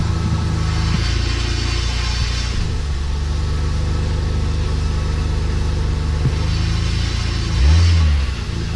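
A Mitsubishi Eclipse with a newly replaced transmission runs in reverse, a steady low engine drone at close range with a brief rev and whine near the end.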